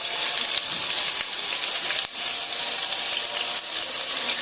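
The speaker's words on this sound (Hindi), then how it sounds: "ये थोड़ा सा गर्म हो जाएगा तो इसमें मैं प्याज ऐड कर दूँगी और मैं इसमें ये प्याज ऐड कर दूँगी।" Onion dropped into hot cooking oil for an aloo gajar sabzi, giving a steady bright hiss of sizzling frying that stays loud and even, with no talk over it.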